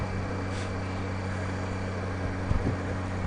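A Honda Goldwing F6B motorcycle cruises on a Sunday ride, with a steady low engine drone and wind rush holding evenly throughout, close and constant.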